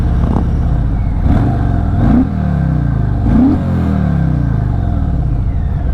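A 2024 Harley-Davidson Fat Boy 114 motorcycle accelerates hard on the road, its loud, deep engine drone rising in pitch, dropping briefly at two gear shifts, then climbing again.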